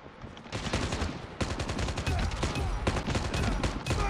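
Rapid automatic gunfire in the mobile shooter Call of Duty Mobile played on PC, loud dense bursts of shots rattling almost continuously with brief pauses, and a player's voice faint underneath.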